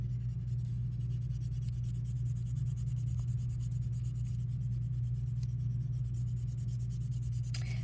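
A pencil rubs around and around over graphite transfer paper in steady, continuous scratchy strokes, close and fairly loud over a constant low hum.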